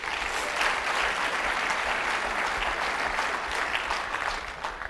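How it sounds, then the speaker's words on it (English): Dense, steady applause from an auditorium audience at a leadership talk, a sustained wash of many clapping hands that holds for several seconds before starting to fade. "please give yourselves a huge round of applause"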